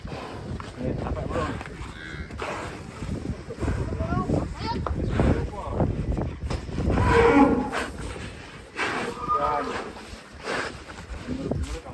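Several loud moos from an agitated cow that has escaped its pen rise and fall over a noisy outdoor background, with people talking and wind buffeting the microphone.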